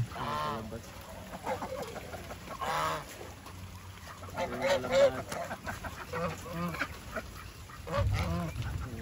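Ducks, turkeys and geese in a fenced pen, with honking and quacking calls coming in bursts amid farmyard clatter, while people talk nearby.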